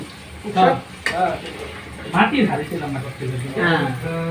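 A spoon scrapes and knocks against a cooking pot as food is stirred in a bachelor's kitchen, a few uneven scraping strokes with a voice talking over them.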